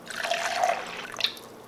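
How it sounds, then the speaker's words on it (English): Water is poured into a 12 oz double-wall plastic freezer tumbler with gel beads, giving a brief, close, fairly quiet splashing trickle that lasts under two seconds. "Okay, let me put some water."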